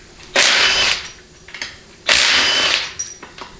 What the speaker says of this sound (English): Assuming I can get my 13mm socket onto my impact.